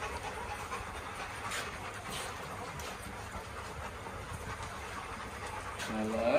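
Rescue puppies pant softly and continuously at a day care, a faint, rapid breathy rhythm under a hissy room background, with a brief whistly squeak near the end.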